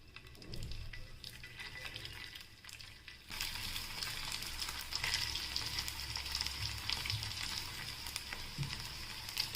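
Sabudana vada balls set into an appe pan, giving quiet continuous frying sizzle that grows fuller partway through and keeps crackling steadily without talk.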